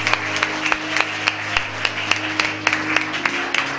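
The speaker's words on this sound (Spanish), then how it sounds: "dale un aplauso fuerte a Dios" A church congregation at a prophetic revival service claps and applauds together, a steady mass of hand claps with sharper accented bursts standing out through the texture, fairly close and sustained throughout.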